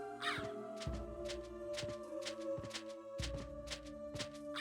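Repeated harsh crow caws from the 1997 video game Castlevania: Symphony of the Night, several loud calls in a rhythmic sequence over droning game music.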